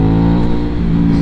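Car exhaust roaring as the engine revs hard while driving on a mountain road, a loud, close, steady growl throughout the short burst with no talking.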